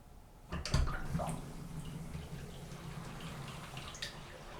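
Water drains from a cultured marble bathroom vanity sink, starting with a sudden gush and settling into a steady trickling gurgle that carries on to the end.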